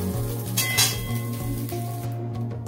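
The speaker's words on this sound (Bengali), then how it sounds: "একটা প্লেটের মধ্যে ডিমটা তুলে নিচ্ছি।" A fried egg lifted out of a frying pan onto a plate during noodle preparation, with light clinks of utensil against pan and dish over a faint sizzle.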